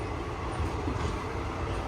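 An abandoned train rolls along its rails with a continuous low rumble and rattle, heard from inside at a moderate level without talk.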